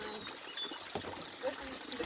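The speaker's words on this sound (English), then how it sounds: "We're down at the creek, and we're filling up the water bladder." Creek water trickles and splashes steadily as it fills a water bladder outdoors on a summer day in Alaska. The flow is faint and continuous, with soft gurgles throughout.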